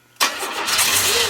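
A budget turbo 250 car engine fires for the first time: an abrupt, loud catch after a moment of quiet, then rough running that settles into a low, uneven idle.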